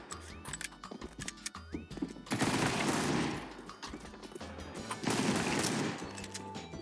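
Rapid Deagle pistol fire in Counter-Strike, with sharp repeated shots and bursts of dense gunfire over busy game sounds and music-like tones, loud and close.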